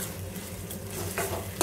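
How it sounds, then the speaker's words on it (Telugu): Chopped tomatoes fry in oil in a pan while being stirred, producing a quiet steady sizzle with a couple of scraping strokes of the spoon near the end. "ఆయిల్ అనేది పైకి వచ్చేంత వరకు మనం ఫ్రై చేసుకోవాలన్నమాట"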